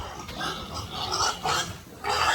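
Pigs grunt and squeal in short bursts, moderately close, amid a busy background hum.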